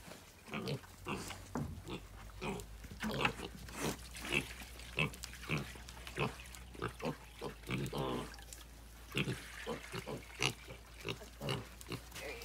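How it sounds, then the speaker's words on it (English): Pigs grunt and snort continuously up close, a busy stream of short rhythmic grunts with no talking. "Come on, pigs."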